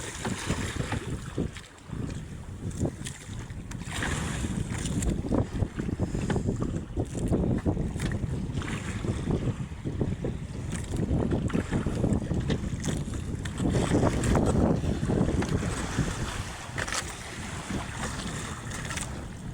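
A boat pushes through very big waves in strong wind, with constant loud wind buffeting and water slapping and churning against the hull throughout, no voices.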